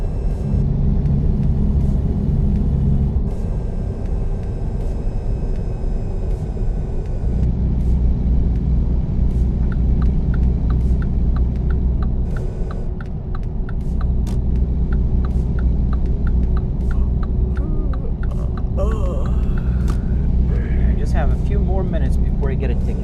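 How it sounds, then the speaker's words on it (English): A truck's engine rumbles steadily in a driving simulator game, a continuous low drone with shifting tone as it drives, while people talk over it throughout. "I'm driving a truck, man. Truck Hero 3."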